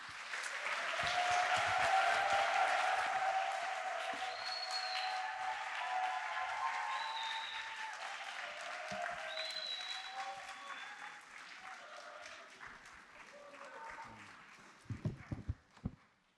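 A church summer retreat audience applauds to welcome a pastor to the stage, a sustained crowd clapping that swells early and slowly fades, followed by a few close knocks and footsteps.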